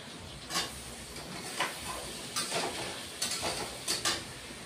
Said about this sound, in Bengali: কুচানো টমেটোগুলি এখন দিয়ে দিচ্ছি।